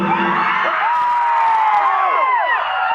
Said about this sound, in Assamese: অকণমান চিঞৰ এটা মাৰিব লাগে